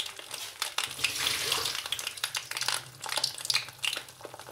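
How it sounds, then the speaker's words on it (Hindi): Aubergine (baingan) pieces fry in hot oil with a dense, close, continuous sizzle and crackle that rises and falls as they settle into the pan. "अब मैं बैंगन डालूँगी इसमें।"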